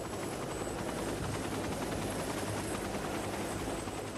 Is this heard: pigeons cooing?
no